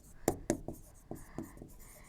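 Chalk or marker writing on a board in a classroom lecture: a quick series of close, sharp tapping and scratching strokes, irregular and crisp, with no talk.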